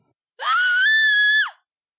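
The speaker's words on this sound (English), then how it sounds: "Bugen was roused by an ear-piercing scream." A single sustained, ear-piercing scream rises sharply, holds a steady high pitch for about a second, then drops off and cuts out, loud and isolated against silence.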